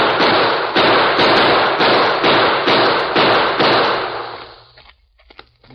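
A rapid volley of about eight loud gunshots rings out in quick, even succession during a radio drama of The Lone Ranger, then fades into near silence.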